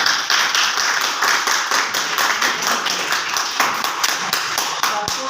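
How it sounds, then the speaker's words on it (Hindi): Students in a Hindi classroom clap for themselves, a dense run of rapid, roughly rhythmic hand claps from a group, loud and sustained for several seconds before trailing off. "अपने लिए तालियां बजाओ।"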